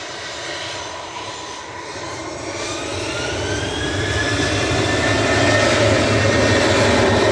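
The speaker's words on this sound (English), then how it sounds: "Ryanair 2148 to Krakow." A Ryanair Boeing 737-800 jet airliner on a flight to Krakow roars steadily and loud nearby, its whining jet engine tone gradually building and rising in pitch over the broadband rumble.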